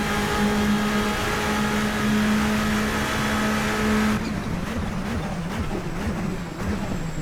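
In Assetto Corsa, the Bentley Speed 8 race car engine holds a loud, steady, buzzing drone for about four seconds, then drops off abruptly into a rougher, lower rumble with rhythmic pulses.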